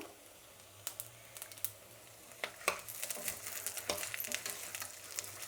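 Dal and garlic fry in a pan with a quiet, steady sizzle, while a spoon stirs and scrapes against the metal in irregular clinks that grow busier toward the end.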